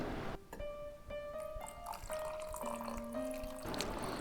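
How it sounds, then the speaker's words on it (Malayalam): Prepared watermelon drink poured into a glass makes a continuous liquid stream whose pitch rises steadily as the glass fills, close and clear, with no voices over it. "ആദ്യം നമ്മൾ റെഡിയാക്കി വെച്ചിട്ടുള്ള ആ ഒരു തണ്ണിമത്തൻ്റെ ഡ്രിങ്ക് ഉണ്ടല്ലോ അത് ഒഴിച്ചു കൊടുക്കാം"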